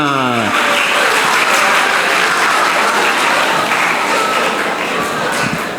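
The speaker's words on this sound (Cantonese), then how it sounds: "可以俾我哋掌聲我哋袁 Sir" A school audience at a junior-form inter-class choral contest breaks into loud, sustained applause for the judge, a dense hall-filling clatter of clapping right after a brief spoken phrase.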